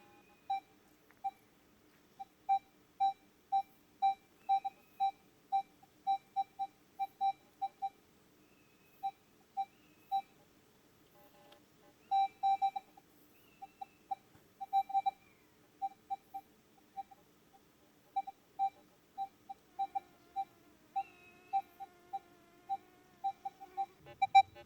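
A Minelab Equinox metal detector, swept over a coin held in the air, gives a long series of short, faint electronic beeps in quick repeated bursts against near silence.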